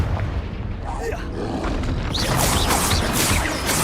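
Confringo explosive spell cast in the video game Hogwarts Legacy: a loud, continuous rumbling blast with dense crackling that swells and brightens partway through, sustained across the whole stretch with no clear pauses.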